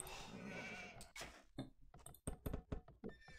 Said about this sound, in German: Oh, das ist mein Schaf übrigens.